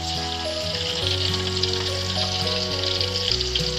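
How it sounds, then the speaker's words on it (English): Fish marinated with chili powder, turmeric and salt fries in a pan, giving a steady, close sizzle over a low hum, with no talking. "Now I will be frying fish already marinate with the chili powder, turmeric, and"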